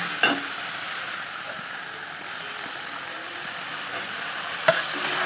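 Roasted, peeled eggplant (begun pora) is stirred into onion and tomato cooking in oil. A steady, close sizzle runs throughout, with two distinct spatula scrapes near the start and near the end.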